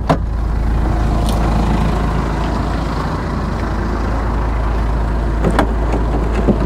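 An old Jeep Cherokee idles with a steady low rumble and creeps forward a short way, the engine holding a constant drone with a couple of brief clunks near the start and end.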